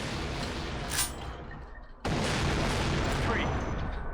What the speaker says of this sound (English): So this is a quick explosion